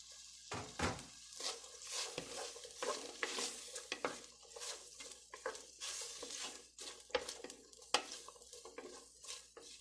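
Green beans and chile go into a pan of frying onion for a Mexican pork stew, bringing a busy, close sizzle broken up by repeated scraping and stirring strokes with a utensil against the pan.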